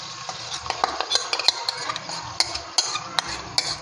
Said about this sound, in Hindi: अब हम इसी के ऊपर ये जो हमने मिक्सर बनाया है इसको हम शामिल कर देंगे।